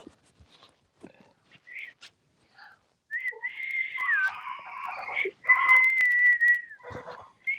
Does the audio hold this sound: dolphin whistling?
yes